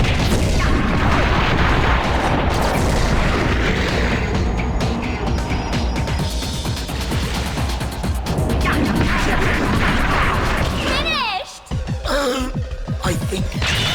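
Explosions and heavy hits during a boss fight in the video game Viewtiful Joe, a dense, loud barrage of booms and crashes with game sound effects, briefly dropping out near the end before resuming.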